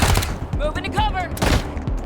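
Rapid gunfire bursts in the video game Wasteland 3, loud and close, with voices shouting over the shots.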